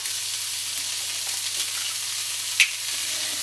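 Omelette ingredients sauteing in a pan, a steady close hiss of sizzling oil with a single small clink partway through.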